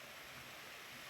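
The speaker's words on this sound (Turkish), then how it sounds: "Ufak bir şelale." A small waterfall spilling into a pond beside a forest walking trail at Bolu's Seven Lakes, a faint, even rushing of water throughout with no voices.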